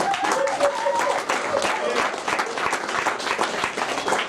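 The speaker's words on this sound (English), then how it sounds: "Give them a round of applause for hustling out here" A comedy club audience claps steadily for the waitstaff, a dense, sustained patter of many hands with a few cheers and voices mixed in, fairly close and loud throughout.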